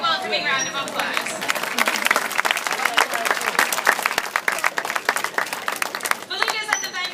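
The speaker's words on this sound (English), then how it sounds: "Let's also give the belugas a big welcoming round of applause." An aquarium show audience applauds the belugas, dense steady clapping from a crowd that fills the space for several seconds, with a voice briefly audible near the start and again near the end.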